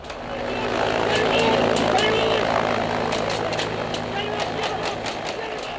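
Military helicopter in Afghanistan, rotor and engine roaring loudly and steadily throughout, with sharp repeated impacts like gunfire or bullets striking the aircraft mixed in, while a voice talks over it.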